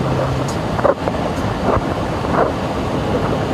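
Strong storm inflow wind roars steadily and buffets the microphone, a loud, constant rushing noise with occasional gusty thumps and no clear voices.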